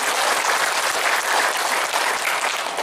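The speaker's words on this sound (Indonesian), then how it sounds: "tepuk tangan untuk Mas Haris semuanya" A room full of people clapping in applause for a speaker at a motivational speaking event, a dense, steady burst of hand claps that holds at full strength for a few seconds without voices.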